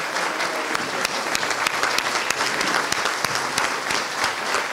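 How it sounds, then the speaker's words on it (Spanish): Steady applause from an audience honoring students at an education program launch in Panama, with sharp individual claps standing out over a dense, even wash of clapping throughout. "quiero que el aplauso sea para ellos"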